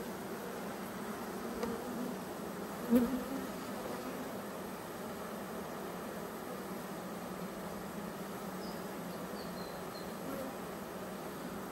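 Bees buzz steadily in an opened beehive, a dense, continuous low hum of many insects close by, with a short louder knock partway through and no speech.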